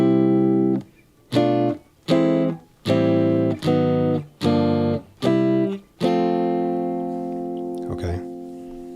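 Minor passing chords in an ascending progression, played on a keyboard-like instrument as seven short, evenly spaced chord stabs followed by one longer sustained chord that rings out and fades.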